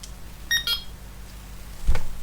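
A Delkim Rx-D bite alarm receiver giving two short high electronic beeps as its anti-theft mode is switched off, followed by a low handling thump.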